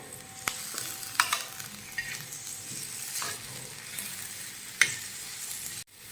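Finely chopped tomato sautéed with drumsticks and onion masala on a tava, with a steady soft sizzle and clinking spoon stirs throughout, no voices.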